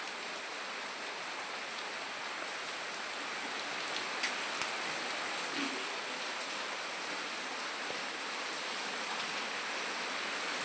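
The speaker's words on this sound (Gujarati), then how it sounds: "વરસાદ આવતો હોય તો" Steady rain falls in a village, a dense, even hiss of drops on surfaces holding at one level throughout, with a few faint knocks and no voices.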